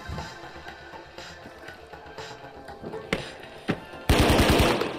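Gunfire in the shooter game The Finals, with scattered single shots and short bursts, then a loud rapid automatic volley at the end over steady game background noise.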